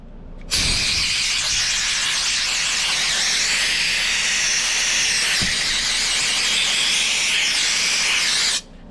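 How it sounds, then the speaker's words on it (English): Compressed air blasts in one continuous loud hiss for about eight seconds while cleaning the carburetor bowl of a Champion Dual Fuel 9375 generator, starting and stopping abruptly, close by with no talk. "you can use compressed air to clean it off from there"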